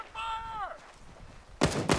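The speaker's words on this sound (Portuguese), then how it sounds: "Tiro veio daqui de cima." Gunfire in the military shooter game ArmA 3, two loud sharp shots near the end of the clip, following a brief tonal game sound; a player's voice is heard in the background.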